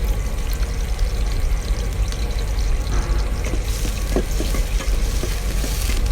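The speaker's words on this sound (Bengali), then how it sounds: "পেঁয়াজ কুচি দিয়ে আমি এখন সুন্দরভাবে পেঁয়াজগুলো নেড়ে দিব।" Chopped onions sizzle steadily in hot oil in a wok, with scraping stir strokes and occasional clinks of the spatula cutting through the frying hiss.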